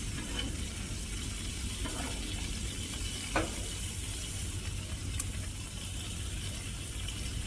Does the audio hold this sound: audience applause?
no